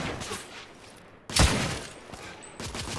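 A single loud gunshot from a firearm in the video game The Order 1886 cracks out sharply mid-clip and decays over ambient game noise, with another muffled report near the end.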